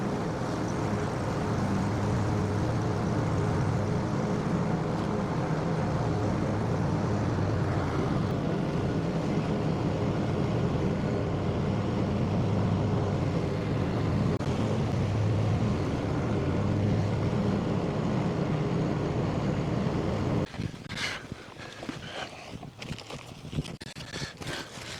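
A lawn mower runs steadily in an overgrown garden, a loud continuous engine drone for about twenty seconds before the sound changes abruptly into rougher, broken rustling and clatter.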